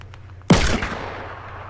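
A single loud gunshot in Fortnite Battle Royale, a sharp crack with a booming, decaying echo that trails off over a second, with no talking.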